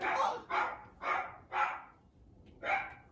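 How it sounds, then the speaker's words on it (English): Several dogs barking outdoors, four loud rhythmic barks in quick succession, then a short pause and one more bark. "Damn these dogs!"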